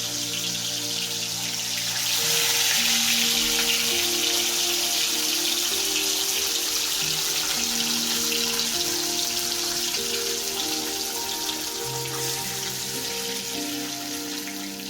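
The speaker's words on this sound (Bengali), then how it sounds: "তেল যথেষ্ট গরম হয়ে গেছে। এরপর এর মধ্যে এক এক করে মাছগুলো দিয়ে দেব। মাছগুলো সামান্য বেশি করেই ভাজবো" Katla fish sizzles loudly in hot oil in a pan, a steady dense crackling hiss that swells after a couple of seconds and holds throughout, close up with a faint tonal hum underneath.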